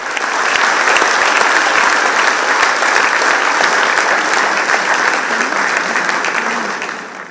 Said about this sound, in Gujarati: મંચને શોભાવે જોરદાર તાળીઓના સંગાથે